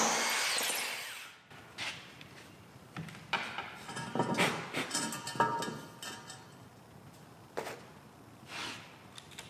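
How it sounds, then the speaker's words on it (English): A power drill bores out a pergola post mount fixed to a concrete slab or landscape column top, starting with a sustained loud whir and followed by several shorter bursts separated by quieter gaps. "I'm going to go ahead and drill it out."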